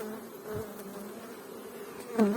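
A honeybee swarm buzzes steadily and close, a dense continuous hum filling the whole stretch with no talking over it, swelling slightly louder near the end.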